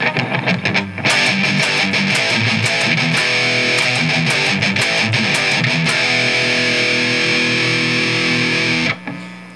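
A distorted electric guitar through an amplifier plays crunchy, sustained chords and riffs, loud and close, ringing out before cutting off near the end.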